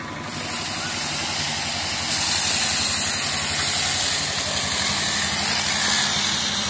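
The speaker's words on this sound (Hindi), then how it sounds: "जो हमारा भाई कटर को चला रहे हैं" A cutting machine runs continuously while sawing through large wood roots on a farm, a steady loud engine drone with hissing, vibrating texture throughout, close by and without speech.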